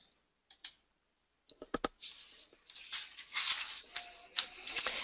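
Computer mouse clicking on a desktop: a few sharp, isolated clicks early on, then a denser run of light clicks and soft tapping that continues to the end.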